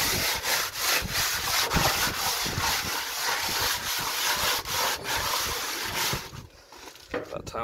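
Crumpled tin foil is scraped back and forth across a greasy smoker grate, a loud, close, rhythmic rasping scrub in repeated strokes that eases off near the end.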